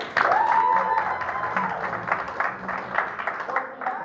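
Theater audience at a live evening show applauds for a few seconds, clapping loud at first then thinning out, with cheering and a whoop mixed in.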